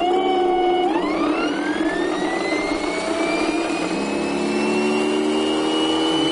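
Small starter-generator motor spinning up, its whine rising sharply in pitch after about a second and then settling into a high steady tone, loud and close, with no voices.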